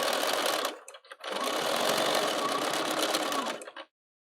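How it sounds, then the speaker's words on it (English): A Bernina 770 sewing machine stitches quilt binding, a fast steady whirring hum that runs, pauses briefly, then runs again close and clear before stopping. "sew the other side of the binding on. Some people do the other side by hand, but it really works pretty well to do it with machine going both ways."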